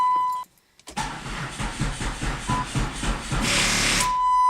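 A Pontiac PT Cruiser GT engine cranked with the key while the fuel pump relay is pulled, a chime then a rhythmic starter churning that runs steadily for about three seconds under a rising whir, loud and close, no talk.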